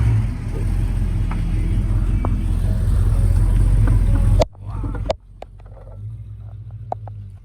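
Junkyard Vespa PX 125 scooter engine: a steady, low, loud rumble for about four seconds that cuts off abruptly, followed by a quieter hum and scattered clicks, with no voices.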